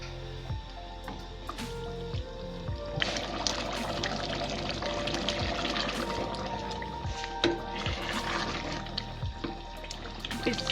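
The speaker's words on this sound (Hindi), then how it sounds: "इस पे सफ़ेद चने जो उबाले थे उसका पानी मिक्स करेंगे।" Water from boiled white chickpeas is poured into a simmering chickpea curry, making a soft continuous liquid pour with wet bubbling and squishy kitchen sounds.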